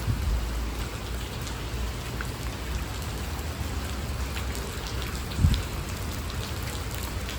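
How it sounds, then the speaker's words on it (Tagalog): Steady heavy rain pours down continuously, causing flooding, a dense hiss of drops on surfaces, with one brief low thump partway through. "Simpleng ulan lang yan dito sa atin"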